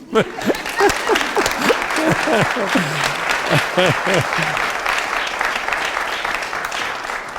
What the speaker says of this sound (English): I think a little round of applause for them.